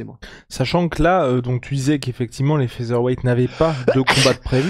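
A man sneezes once, sharp and loud, near the end of French conversation about UFC fighters during a talk show, with voices speaking just before.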